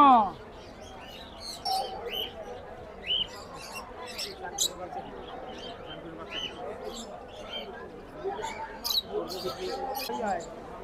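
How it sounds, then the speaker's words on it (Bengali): Many birds chirp and tweet in scattered bursts throughout at a livestock exhibition, with low voices murmuring in the background. "অনেক অনেক পাখির কালেকশন।"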